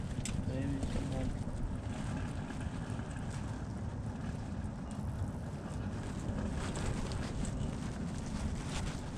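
Strong gusty wind at a gravel pit roars loudly into the microphone, a constant rumbling buffet with no letup through the whole stretch.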